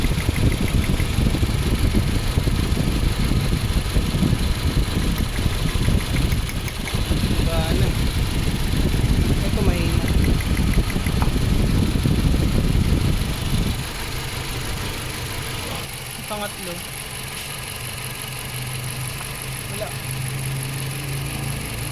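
The engine of a Toyota Fortuner with a misfire runs nearby after its ignition coils are swapped, a rough steady idle that drops to a quieter, smoother hum partway through, with someone talking over it.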